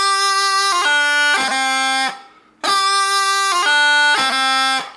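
A bagpipe plays a bar of the slow march Leaving Lismore with a B strike. It sounds loud and close over a constant drone, phrased twice with quick grace-note gestures and a brief gap between the two passes.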